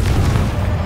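A Confringo spell detonates in Hogwarts Legacy, a single deep, rumbling boom that is loud and close and sustains briefly through the short moment.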